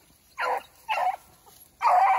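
Dogs in bird dog training bark and yip in three short bursts, fairly close, with a quiet gap between them and no talking.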